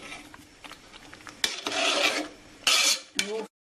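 A spoon stirs paachoru in a pan with ground cardamom and cumin, making dry scraping rasps close by: a few light scrapes, then two longer, louder grinding bursts before it stops. No one speaks.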